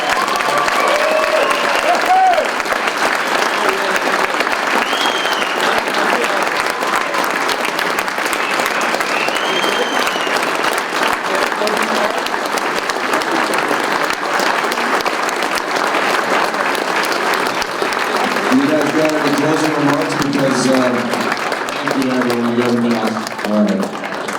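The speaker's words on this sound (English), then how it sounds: "How about a big round of applause for Kevin Pillar and Chris Colabelli" Audience applause for baseball players Kevin Pillar and Chris Colabelli at a Toronto Blue Jays Hot Stove event in Fort McMurray, a sustained, dense roar of clapping from a crowd with some cheering, lasting throughout.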